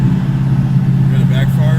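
Ford Mustang GT with a FlowMaster Outlaw catback and Scavenger X-pipe exhaust idling below 2,000 RPM, a steady low drone heard up close and continuous throughout.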